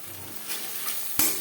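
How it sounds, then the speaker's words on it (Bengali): Two beaten eggs with chopped green chilli and salt sizzle steadily in a hot pan as they are scrambled, a soft frying hiss with a sharper clink of stirring near the end. "ডিমের ভুজিয়া তৈরি করে নেব"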